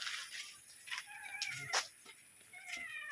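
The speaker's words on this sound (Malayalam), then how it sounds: "ആ പൂച്ച ഹായ് പറഞ്ഞ" A cat meows several times, thin and wavering, against steady faint background hiss.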